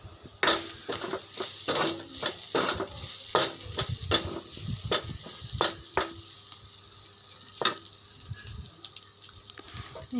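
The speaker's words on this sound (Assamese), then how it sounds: "এতিয়া মছলাখিনি ভালদৰে ভাজি লৈ" Spices frying in a pan for an Assamese snakehead fish curry with bottle gourd seeds, with repeated spatula stirs and scrapes against the pan over a light sizzle, close up, no voices.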